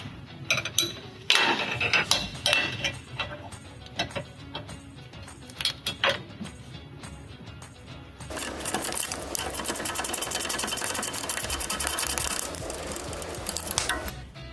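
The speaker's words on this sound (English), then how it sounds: "we're going to be taking off the bolt that holds the strut to the lower control arm" Close, busy mechanical rattling and ratcheting while a bolt holding the strut to the lower control arm is worked loose on a Subaru Forester, choppy clicks first, then a long continuous buzzing run of a tool, no talking.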